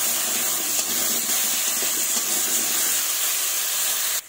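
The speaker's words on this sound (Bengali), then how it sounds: "দিয়ে আলুগুলোকে লাল লাল করে ভেজে নেব।" Potatoes frying in oil with salt and turmeric, browning to a reddish colour; a dense, continuous hiss of hot oil close by that cuts off abruptly at the end.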